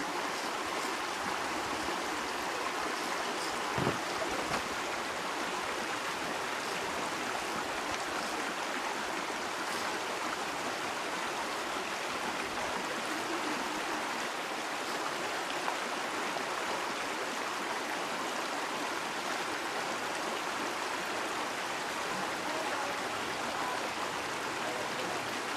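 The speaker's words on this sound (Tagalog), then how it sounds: "ang nasa baba po niyan ng skywalk ay ang ilog ng Irawan" The Irawan River flows steadily below a skywalk in Palawan, a continuous, fairly faint rushing of water with no break, heard from some distance.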